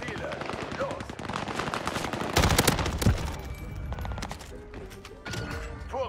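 Rapid automatic weapon fire from a gun in the video game Call of Duty Warzone crackles in dense bursts throughout, with a few sharper impacts mixed in.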